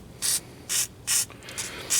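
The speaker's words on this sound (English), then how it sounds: "we're going to spray some WD-40 on this thing." WD-40 aerosol sprayed onto a car's front axle nut during a wheel hub job: four short, loud hissing bursts spaced about half a second apart, close to the mic, with a fainter puff between the last two.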